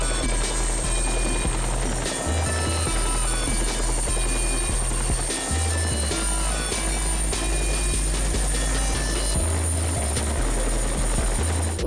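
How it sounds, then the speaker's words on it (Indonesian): A toy patrol helicopter runs with a steady buzzing whir throughout, close and fairly loud, with a low motor hum that pulses and shifts in places. "di sini ada helikopter patroli teman-teman"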